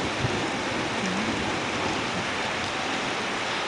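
Steady rain falls in a village in Uganda during a thunderstorm, a dense even hiss of downpour that holds constant throughout, with no other sounds standing out.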